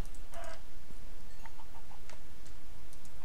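Chickens in the video game Minecraft give a few short, soft clucks spread across a few seconds, sitting quietly over a steady low background hum.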